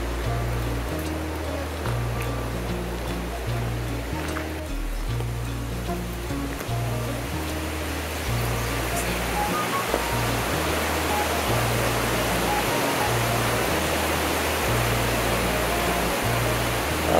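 River water rushing steadily toward Devil's Kettle waterfall at Judge C. R. Magney State Park on the North Shore, a loud, continuous broadband roar with low rumbling surges and no talk.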